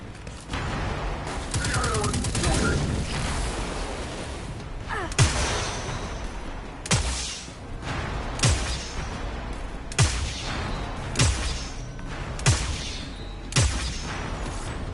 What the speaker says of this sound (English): this sniper has quite a bit of shots in it